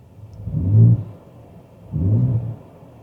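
A 2025 Ford Ranger Raptor's exhaust rumbles low at idle, then swells in two short revs about a second apart, deep and close, with no talking.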